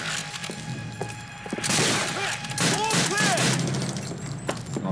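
Gunfire in the Call of Duty: Finest Hour video game, on the Matmata mission: bursts of rapid shots and thuds, loud and close, mixed with shouting voices and battle noise.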